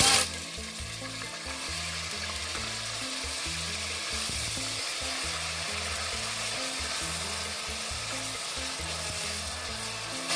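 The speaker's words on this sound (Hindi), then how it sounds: "प्याज को हम ब्राउन कर लेंगे इसमें ऑयल में।" Chopped onions browning in hot oil, a dense continuous sizzle holding steady throughout, close up with a low rumbling undertone and no talking.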